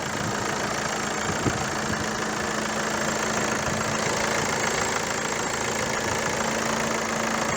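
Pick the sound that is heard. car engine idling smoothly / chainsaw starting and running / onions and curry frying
car engine idling smoothly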